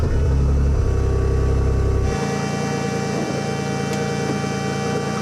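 A tuned Toyota GR Yaris with a dog-box gearbox and big cams, over 500 hp, pulls loudly on a street, its engine droning under load and then dropping sharply to a lower steady note as a gear changes.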